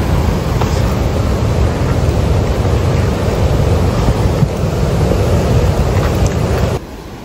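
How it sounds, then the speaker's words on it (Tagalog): Rushing water roars at a lake in Alberta, a loud, steady broadband wash heard up close that runs unbroken before dropping off abruptly near the end. "Narinig niyo ba yung lagas-las ng tubig?"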